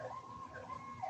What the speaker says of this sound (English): there's an ambulance in my background